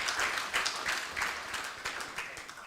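An audience at an agricultural symposium in Uganda applauds with steady, fairly close clapping that carries on without a break.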